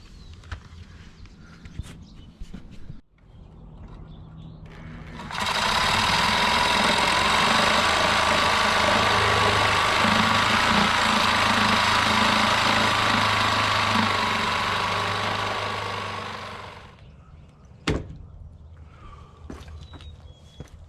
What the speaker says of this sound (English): I'm going to put my Sawzall in here like this, and then cut it straight across